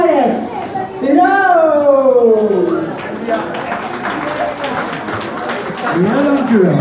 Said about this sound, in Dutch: Mag ik een hartelijk applaus voor onze zanger en zangeres, Jo!